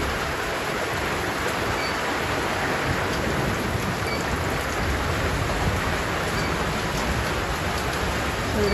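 Steady rain falls in a village after a stormy start, a dense, even hiss of drops on surfaces close by with no pauses and no voices.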